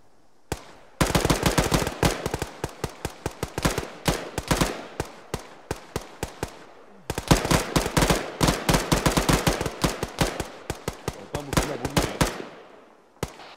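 Automatic gunfire from a weapon in the video game Arma 3 rattles out in two long rapid bursts of loud, sharp shots, separated by a brief pause and tapering into a few scattered final rounds.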